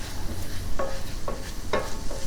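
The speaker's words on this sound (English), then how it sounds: "Our onions have started to sweat out here." Onions sautéing in a pot for a Tuscan chicken and cannellini bean stew, with a soft steady sizzle and three distinct stirring scrapes, close up with no talking.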